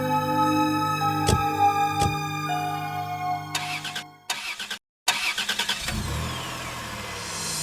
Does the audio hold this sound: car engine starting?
yes